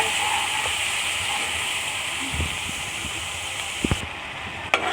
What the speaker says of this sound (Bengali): পেঁয়াজটা ভেজে নিয়েছি